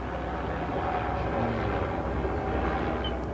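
A helicopter flying over Manhattan, a steady broadband engine and rotor rumble held at a moderate distance for a few seconds, with no voices.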